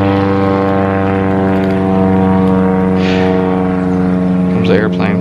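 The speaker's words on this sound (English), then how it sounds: "Comes the airplane." An airplane passes overhead outdoors, a steady propeller drone with strong low harmonic hum holding loud throughout, while someone talks briefly near the end.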